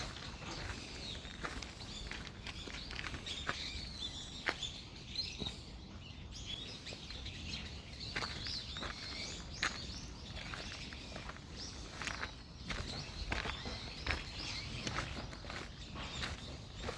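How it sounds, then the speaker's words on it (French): Birds chirp and sing in a temple garden in Kyoto, scattered sharp calls over a steady outdoor hiss with footsteps shuffling nearby, no talking. "Et là, on entend les oiseaux."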